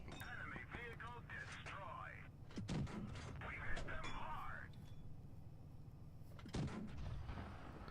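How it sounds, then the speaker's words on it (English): Tank cannon shots in World of Tanks Blitz, the game's T-28 Russian medium tank firing APCR rounds, come as a few sharp booms amid game effects, with a voice talking over much of it. "we switch over to APCR and can pump in a few shots here"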